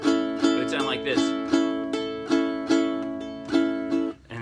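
Ukulele in high G tuning strummed in a steady rhythm, loud and close, playing a song, with bright ringing chords repeating about once a second.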